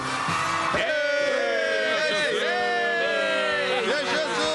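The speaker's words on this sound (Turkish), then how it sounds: "İşte taraftarlarının tezahüratları eşliğinde sömürgeler geliyor." Cartoon football match crowd cheering and bellowing as the teams come out, a loud, continuous roar of many voices with rising and falling yells throughout.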